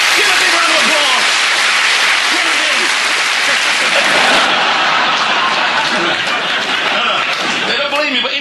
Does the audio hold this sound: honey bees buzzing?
no